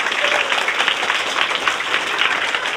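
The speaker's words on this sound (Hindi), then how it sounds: "एक बार सबसे पहले इसके लिए ताली बजाओ सारे बच्चे, बजाओ जोरदार।" Schoolchildren in a village government school classroom clap loudly together, a dense, steady burst of applause that stays at the same level for a few seconds with no voices over it.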